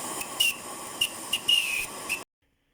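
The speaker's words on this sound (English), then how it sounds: "this is, I think, the third version of the whistle" A homemade steam whistle on a small engine gives several short, shrill toots in an irregular sequence, each with a hissing edge, then cuts off abruptly to silence.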